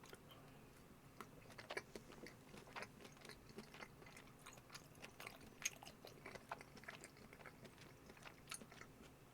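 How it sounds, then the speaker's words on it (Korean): Someone chews takoyaki with firm, crunchy octopus pieces close to the microphone, producing quiet, repeated wet bites and crunchy mastication clicks in an irregular rhythm over a low background hiss. "문어가 아삭아삭 씹힙니다."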